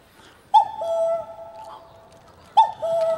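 A voice imitates a cuckoo on stage at a Korean TV singing contest with ethnic Korean contestants from China. Two long, hooting, tonal calls come about two seconds apart, close and fairly loud, with quiet between them.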